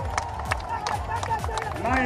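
A political rally crowd in Uttar Pradesh claps and shouts together, a dense stream of uneven claps and cheering voices that continues throughout.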